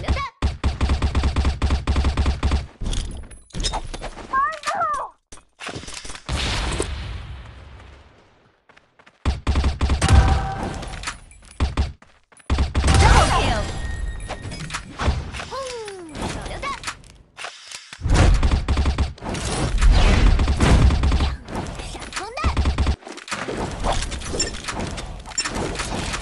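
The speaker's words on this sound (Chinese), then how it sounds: "手雷发射， 手榴弹。" A grenade launcher fires in the mobile shooter Crossfire: Legends, producing loud, punchy bursts and crashing blasts in irregular clusters separated by brief silences, with some voice-like sounds in between.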